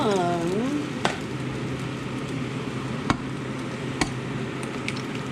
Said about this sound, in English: I'm going to just break a few eggs into here.